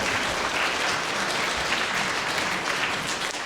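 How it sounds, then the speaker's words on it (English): School audience and students give a round of applause at a fifth grade band performance on Pancake Day, a steady, even wash of clapping from many hands sustained throughout without talk. "I think it's appropriate if we give our parents a round of applause."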